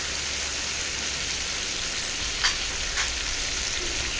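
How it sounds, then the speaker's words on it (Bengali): Fried prawns go into a hot pan with ridge gourd and are stirred, giving a steady close sizzle of frying with a couple of brief scraping stirs partway through, no voices. "এরপর ভেজে রাখা চিংড়ি মাছগুলো দিয়ে দিচ্ছি। নেড়ে নিচ্ছি।"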